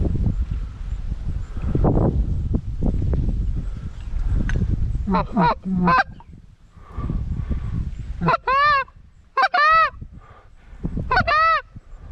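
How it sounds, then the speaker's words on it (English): Geese honking over an early-season goose hunt in North Dakota: someone talks at first, then loud, close bursts of repeated honks arrive in several groups. "Big old goose."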